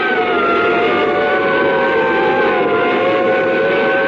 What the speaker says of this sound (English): He followed us with his siren blaring. It was an ambulance.